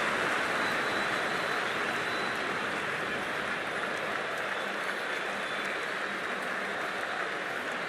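A cricket stadium crowd in the Cricket 24 video game, at a women's T20 World Cup match between India and Australia, applauds and cheers in a steady, dense wash of clapping throughout.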